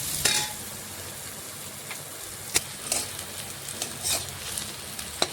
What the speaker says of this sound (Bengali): এখন নাড়াচাড়া করে পেঁয়াজ একটু ভেজে নিচ্ছি